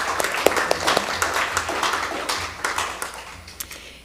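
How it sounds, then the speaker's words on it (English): Audience applause after a lunch talk on climate finance, a broad wash of clapping with sharper individual claps, steady at first and gradually thinning and fading over about four seconds. "Can we have a round of applause,"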